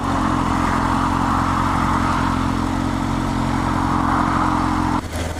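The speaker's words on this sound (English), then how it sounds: "Low speed riding on the bike as well." A 2018 Kawasaki H2SX SE motorcycle rides along at low speed, its engine a steady close mid-pitched hum mixed with wind and road noise, unbroken until a brief bump near the end.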